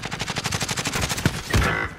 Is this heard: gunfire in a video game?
yes